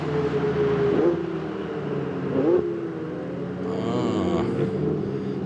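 Ferrari Challenge race cars at Monza roll back into the pit lane, engines droning steadily with a couple of rising revs and gear-change swells, fairly close and continuous.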